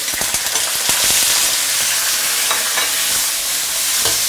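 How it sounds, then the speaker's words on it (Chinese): Chinese cured pork (larou) stir-fried in a wok in fresh cool oil over low heat, a steady dense sizzle with scattered sharp crackles and spatula scrapes, close and alone. "接着开着小火慢慢去煸它，腊肉要稍微煸一下它才会香，一定要给它煸过"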